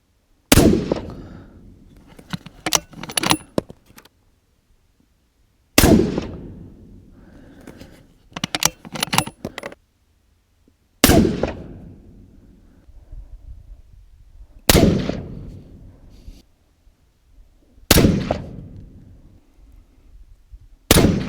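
Suppressed rifle with a carbon fiber wrap barrel firing single shots outdoors, each sharp report followed by a decaying echo, about five shots spaced several seconds apart with clattering handling noise between them.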